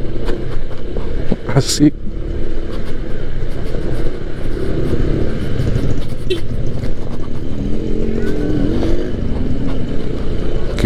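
A Honda ADV 160 scooter riding along a road under repair, its engine drone and wind rush loud and continuous close to the mic, with a rider's voice briefly speaking over it.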